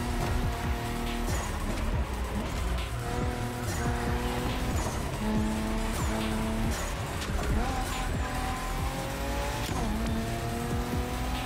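A racing car in an open-world racing video game roars with a steady, loud engine whine and squealing, skidding tires, its pitch rising and falling continuously throughout.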